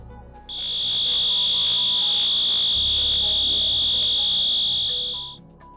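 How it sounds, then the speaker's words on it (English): Stage 2 fire alarm in a GMP facility: a steady, loud electronic tone with a high overtone sounds continuously for about five seconds, starting abruptly and then cutting off. "This is the sound of the fire alarm, Stage 2."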